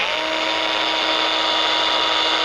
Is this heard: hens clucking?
no